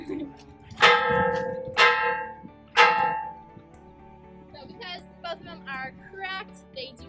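A cracked bronze mission bell at Mission San Juan Capistrano is struck three times, each a loud, dull clang that dies away quickly without a ringing tail, followed by someone talking.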